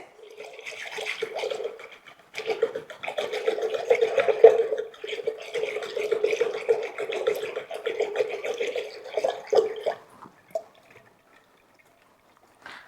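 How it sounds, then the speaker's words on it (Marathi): Continuous sloshing and splashing of curd and water being churned with a wooden churner, lasting about ten seconds before stopping abruptly. "मी आता हे डायरेक्ट रवीन घुसळते"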